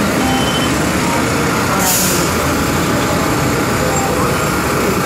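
A water truck in Intramuros waters plants through an attached hose. A loud, steady rush of engine and spray fills the whole stretch, and a brief hissing burst rises in the middle.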